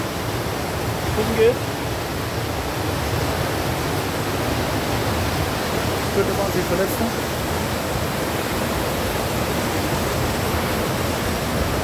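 Waterfall at Zauberwald by the Hintersee, a steady, loud broadband roar of rushing water filling the whole clip, with a person speaking briefly over it.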